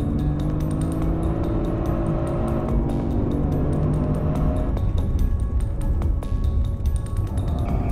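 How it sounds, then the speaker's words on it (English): A BMW M3 and a Mercedes-Benz C63 S AMG accelerate hard out of a hairpin on a race track, engines rising in pitch through the gears, loud and continuous with shifting tones as the cars pull away. "Both cars get through the hairpin cleanly and accelerate towards the second chicane."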